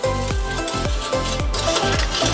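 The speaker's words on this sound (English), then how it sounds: "And then just stir it" A spoon stirs sugar into about two liters of lemongrass tea, sounding as a rhythmic series of roughly six clinks and swishes against the container, close and alone.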